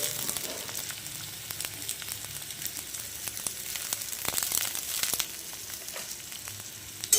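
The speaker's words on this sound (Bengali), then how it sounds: "সবজিগুলো একটু নাড়াচাড়া করে নিই।" Carrot and cabbage stir-frying in a pan for veg fried rice, a steady close sizzle with scattered scraping and stirring clicks throughout, no voices.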